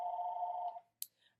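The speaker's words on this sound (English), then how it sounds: "my phone is ringing" A phone rings once with a steady electronic tone lasting under a second, followed by a brief sharp click and a fainter chirp, close by in a quiet room with no talking.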